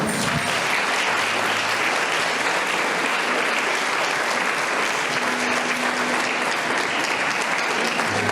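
Dense, loud applause fills a church congregation at a 60th anniversary service, many hands clapping continuously and evenly without pause or speech.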